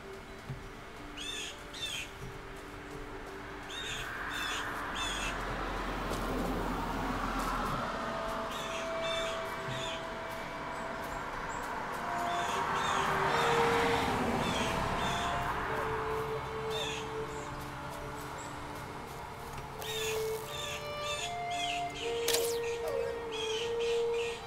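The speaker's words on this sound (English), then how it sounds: "Birds are lively." Crows and other birds caw and squawk repeatedly in the Valheim game world, bright calls recurring through a continuous ambient wind-like wash, at a moderate distance and fairly soft.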